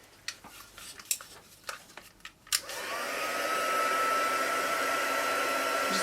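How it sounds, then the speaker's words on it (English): A heat gun warming embossing powder for a stamped paper craft decoration switches on after some light clinks and taps. It settles into a loud, continuous airy roar that holds steady to the end. "So the heat gun's coming on now, so turn your speakers down."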